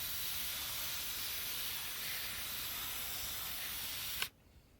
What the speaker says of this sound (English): I'm using the mist here on my watering wand to just get this nice and watered here.